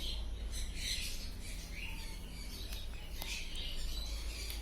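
Caged birds at a crowded pet bird market, with faint, overlapping high chirps and squawks coming from several birds over a low steady background hum, and no voices.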